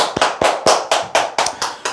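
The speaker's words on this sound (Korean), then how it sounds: "박수 한번 치시죠" Eight sharp, evenly spaced hand claps from a small group, loud and close, at a steady brisk rhythm with no talking.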